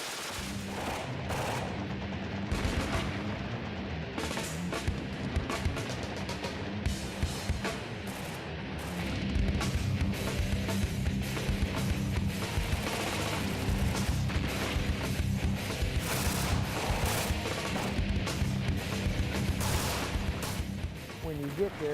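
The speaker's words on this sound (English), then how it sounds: "shooters can open up and go full auto to their heart's content" Dense, continuous full-auto machine gun fire from many shooters lined up on a firing line at an early-June shoot and trade show, with overlapping bursts and loud cracks that never let up.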